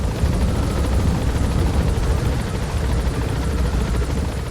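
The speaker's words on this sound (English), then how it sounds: "now that the helicopter's gone" A helicopter in the Metal Gear Solid V video game drones with a loud, steady rotor thrum that continues unbroken throughout, with no talk.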